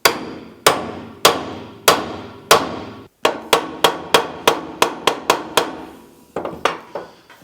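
A mallet drives a spike into wood with about sixteen sharp, ringing strikes, spaced slowly at first, then quickening into a brisk run before a last few uneven blows.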